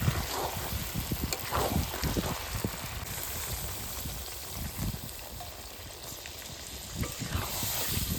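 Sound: chicken pieces frying in oil in a pan

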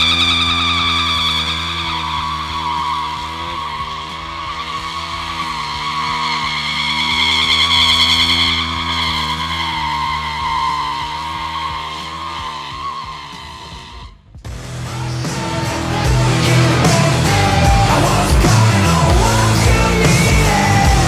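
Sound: motorcycle doing a donut, tires skidding

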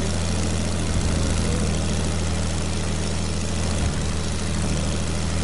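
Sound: airplane engine in a video game

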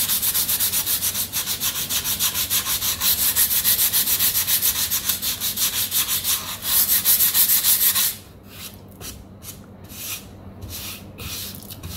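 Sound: sanding wood filler on wood grain

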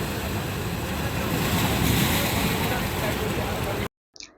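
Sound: sea waves at Digha beach

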